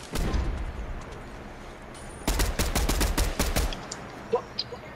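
Gunfire in a fast shooting video game: an early burst, a pause, then a rapid rattling volley of sharp shots over roughly two seconds, loud and close, with no talk.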